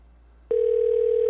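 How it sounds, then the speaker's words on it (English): A telephone line rings out on a call. After half a second of quiet hiss, a single steady electronic tone switches on and holds at an even, fairly loud level. "It's just ringing."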